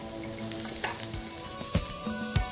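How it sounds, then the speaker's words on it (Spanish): A chicken supreme sears in a frying pan with butter, giving a close, steady sizzle with small crackles and no talking. "Lo voy a llevar entonces directamente a nuestro sartén con un toquecito de manteca."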